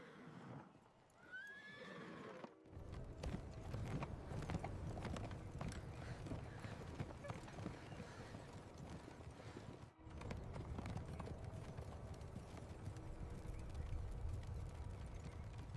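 Horses whinny near the start, then hooves clip-clop steadily and loudly throughout, with a brief pause midway before the trotting resumes.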